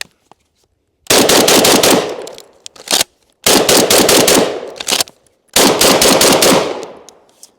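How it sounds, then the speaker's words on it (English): An IWI Tavor TS-12 shotgun fires birdshot as fast as possible, three rapid bursts of loud, closely spaced blasts with short pauses between them for reloading or shouldering, close and sharp. "we're gonna go 15 rounds as fast as we can, see if we have any malfunctions"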